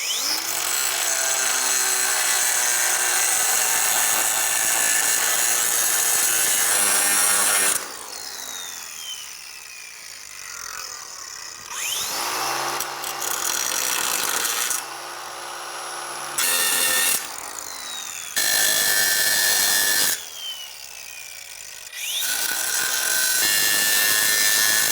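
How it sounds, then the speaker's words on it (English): A grinder cuts rivets off the frame of a 2001-2006 Chevrolet Silverado 2500 at a torsion bar mount, loud, close and harsh, in long whining passes broken by short pauses and changes in pitch. "Now use some type of a grinder or whizzer and cut the rivets off."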